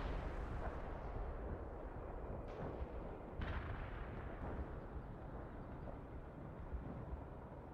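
Heavy artillery fires in the real-time strategy game World in Conflict, booming dull blasts and rumbling impacts over a dense, continuous battlefield roar at moderate distance.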